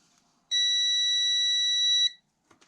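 A continuity tester checks the conductors of a newly built adapter cable between a Lab599 Discovery TX-500 HF radio and a Heil Sound headset. It gives one steady, loud tone of about a second and a half, with no talking around it.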